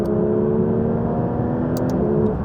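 A Porsche GT3 RS engine holds a steady, loud mid-range drone as it revs to about 5,000 RPM, heard from inside the car with no speech.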